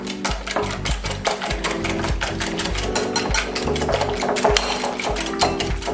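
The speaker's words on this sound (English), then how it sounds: "I'm just going to blend it together here with my little whisk here." A small hand whisk beats a breakfast casserole mixture with orange liqueur in a bowl, giving fast, steady, close scraping and clicking strokes that continue without pause over a dense, constant background.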